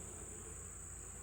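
A faint, steady insect drone near a honey bee nuc being treated with oxalic acid and a pollen patty, forming a continuous low hum with a thin high whine and no voices.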